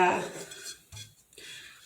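Metal cake pans clank and scrape as they are handled, a bright ringing clatter at the start followed by a few softer knocks and light rattles, close by and fairly quiet.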